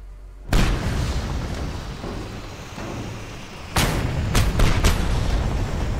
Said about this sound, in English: And explode.